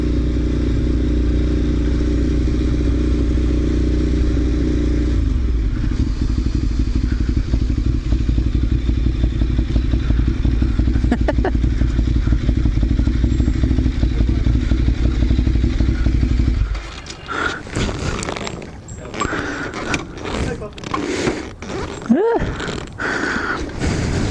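A 2008 Ducati 848 sport motorcycle engine idles loudly and steadily up close, then gives way to clattering, thumps and handling noises.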